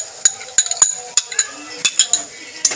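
A metal spoon clinks and taps sharply against a pan while beaten yogurt is stirred in for a Bengali doi katla fish curry, with a dozen or so bright irregular strikes close up and quiet in between.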